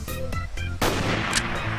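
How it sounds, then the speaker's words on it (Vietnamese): Shotgun blasts in Minecraft PE: several loud, booming shots in quick succession, each followed by a short ringing tail, with a heavier sustained burst near the end. "Shotgun này là súng ngoài hành tinh nữa các bạn ơi, bắn một viên là một con zombie lên đường luôn."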